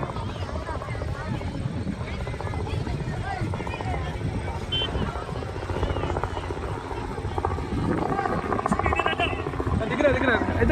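A helicopter arriving for a wedding procession in Barmer, India, thumps steadily with its rotor and grows louder toward the end, with people talking over the engine noise.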